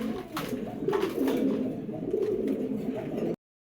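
Pigeons at a bird market coo in low, rolling, throaty phrases that overlap nearly continuously. The sound is fairly close, with faint background clatter, and it cuts off abruptly near the end.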